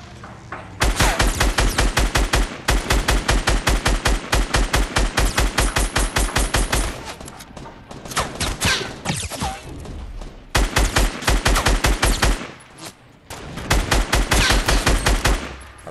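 Loud automatic gunfire in a Fortnite Battle Royale match comes in several long rapid-fire bursts of evenly spaced cracks. Short gaps separate the bursts, and a rougher, more scattered stretch sits in the middle, with no talking.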